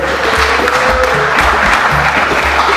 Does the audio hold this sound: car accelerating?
no